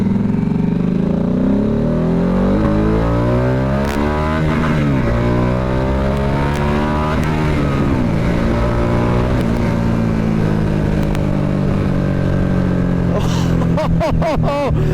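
A 2025 Harley-Davidson Nightster Special motorcycle in sports mode, engine revving and accelerating through repeated rising pitch sweeps, loud and close throughout, with a few sharp clicks near the end.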